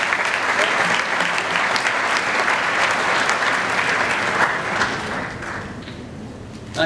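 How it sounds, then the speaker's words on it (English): Audience applause at a Kokoda Challenge first-aid and preparation talk: a steady wash of many hands clapping for several seconds, dense and moderately loud, tapering slightly toward the end. "Give him a clap"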